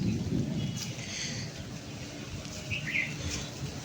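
Distant thunder rumbles low and steady under rainfall, with a few birds chirping faintly in the background.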